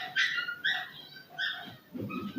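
A dog whines and yelps in several short, high bursts with brief gaps between them, fairly close by, ending in a rougher, lower-pitched sound.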